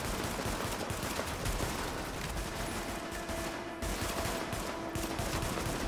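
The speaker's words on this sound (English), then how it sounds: "Someone's shooting me." Sustained bursts of enemy gunfire in the shooter The Division, a dense, continuous crackle of rapid shots filling the whole stretch, loud and close with no talk over it.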